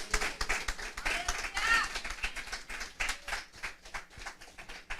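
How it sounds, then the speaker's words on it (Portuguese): Congregation clapping during a church worship service, a lively, uneven burst of hand claps with voices calling out over it, moderately close and busy. "uma linda salva de palmas"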